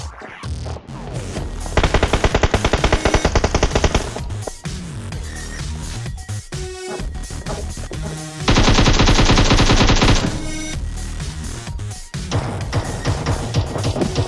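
MK47 gunfire in a video game: two sustained bursts of rapid automatic shots, loud and close, with scattered single shots and game noise between them.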